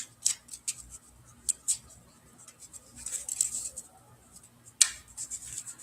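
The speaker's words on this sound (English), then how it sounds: "I'm mixing the cards" Tarot cards being mixed by hand, heard as sparse, faint crisp clicks and light riffling flutters with a short denser burst midway and one sharp snap near the end, in a quiet room.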